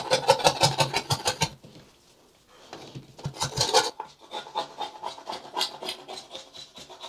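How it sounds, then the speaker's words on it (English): Old caulk and paint are scraped off wooden bathroom baseboards in rapid rhythmic rasping strokes, coming in close bursts separated by short pauses. "I am just going to scrape off all of that old caulk and paint that's behind them"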